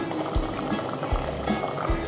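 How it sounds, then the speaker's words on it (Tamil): Thick tomato gravy bubbling in a pan, with low, periodic plopping bursts over a steady simmering hiss. "இது ஒரு ரெண்டு நிமிஷம் நல்லா கொதிக்கட்டும்"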